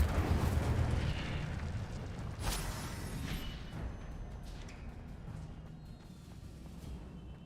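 A whooshing burst of Incendio fire cast in Hogwarts Legacy, an opening rush and roar followed by a second flare near the middle, fading into a low crackling rumble.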